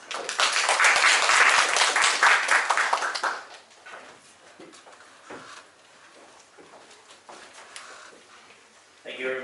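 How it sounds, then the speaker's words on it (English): Closing a conference session, an audience bursts into loud, dense applause for about three seconds, then it fades quickly to scattered claps and quiet room noise. "let's join us with a big clap to end this section, please."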